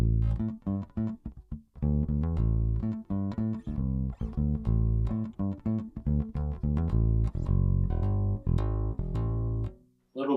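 A handbuilt bass guitar played through its front coil pickup alone, giving a steady run of deep plucked notes with a rounded tone and no other sounds, ending in a brief drop to silence.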